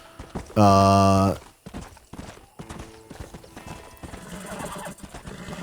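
A horse neighs loudly in the Red Dead Redemption video game, a long shrill whinny, followed by steady clip-clop of hooves on the ground beneath a brief spoken exclamation.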